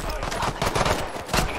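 Bursts of automatic gunfire in the battle royale game Warzone, several crackling volleys in quick succession at moderate loudness with faint voices mixed in.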